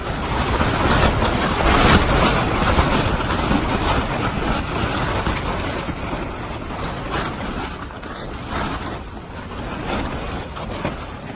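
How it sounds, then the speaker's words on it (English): Wind gusts against a Core 6-person instant cabin tent, a steady broadband roar with rolling buffeting surges that stay loud and close throughout, with no voices. "There's the wind kicking up again, and the tent's still holding strong."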